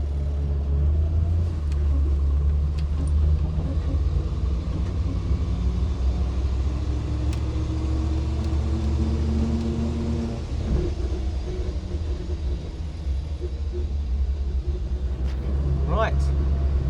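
Land Rover Series 2A engine rumbling low and steady while the vehicle drives, a close, continuous drone with slight shifts in pitch and a few faint knocks, and no speech heard.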